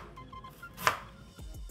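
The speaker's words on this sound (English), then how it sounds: "cut the ginger into small pieces to prevent long ginger fibers in your Handvo" A knife chops ginger into small pieces on a board for Gujarati handvo, a few quiet taps with one sharper strike, close and faint, no talk.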